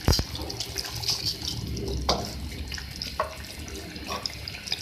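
Water bubbles and simmers in a pan for egg korma, a close, busy wet churning with scattered pops and bursts and no talk over it.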